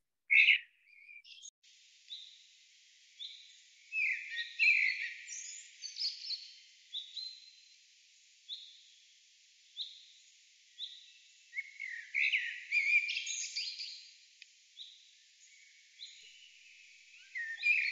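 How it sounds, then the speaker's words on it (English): Common blackbird song played from a recording: a string of clear whistled phrases and chirps repeats through the clip at a moderate, fairly quiet level, with no talking. "So it's a common Blackbird."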